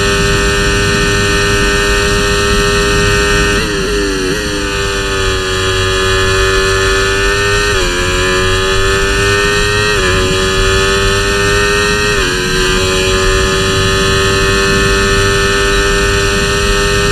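Simulated Formula 1 car from the F1 24 racing game at Monza, engine screaming loud and steady throughout, with several rising rev sweeps as it climbs through gears back to racing speed, no voices.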